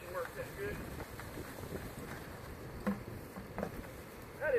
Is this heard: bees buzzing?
yes